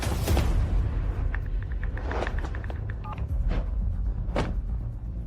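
A mobile phone being dialed: a run of short keypad beeps in quick succession over a low rumble, with a few soft thumps.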